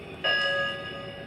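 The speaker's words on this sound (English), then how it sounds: "And then here's the bell. You just press it." A toy bell on a battery-powered Lionel Hogwarts Express train set rings once after a button press, a bright electronic ding with a ringing tone that lingers and fades over about a second, close and clear.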